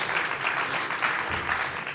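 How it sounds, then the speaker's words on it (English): A summit audience applauds a government minister walking onto the stage, a loud, steady burst of clapping from a large room with no voices over it. "A rousing round of applause, people."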